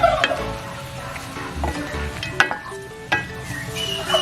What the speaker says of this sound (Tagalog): until it becomes golden brown, or when the color changes. Keep sauteing